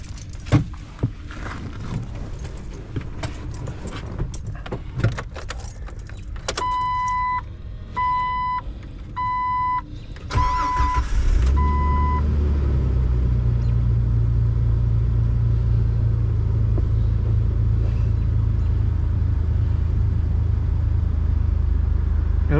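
A 2006 Jeep Wrangler with a newly installed alternator cranks and fires up, with key chimes beeping first, then the engine catches and settles into a steady, loud idle rumble close by.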